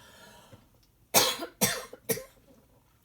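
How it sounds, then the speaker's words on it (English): Three sharp coughs in quick succession, close and fairly loud, after a quiet stretch. "I'm gonna cough."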